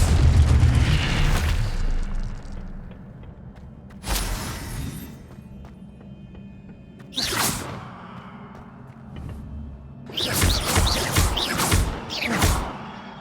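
Stupefy and Incendio spell blasts in the Hogwarts Legacy video game, several loud whooshing bursts with booming, crackling impacts spaced a few seconds apart, the last ones clustered in quick succession.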